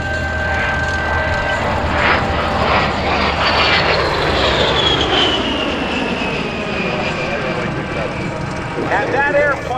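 A military airplane roars past at an air show in Michigan, a loud sustained engine rush with a falling pitch sweep as it passes, while a commentator talks over the noise.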